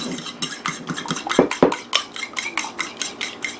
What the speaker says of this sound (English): let's beat this up, and this gets the spices mixed in nicely